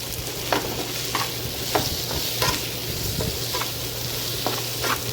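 Spices and potatoes being stirred in a sizzling pan for a Bengali-style potato curry with lentil fritters, with regular scraping strokes about every half second over a continuous frying hiss.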